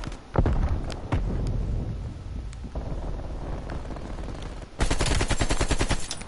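Gunfire in Call of Duty, with scattered sharp shots early on followed by a quieter stretch, then a fast automatic burst of rapid, evenly spaced rounds near the end, moderately loud with no talk.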